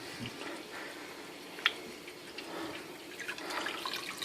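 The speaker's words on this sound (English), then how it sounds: "give that a good rinse. I like to turn it to cold." Cold tap water runs over a vape clearomizer in a sink, a steady close splashing rinse with a brief sharp clink partway through.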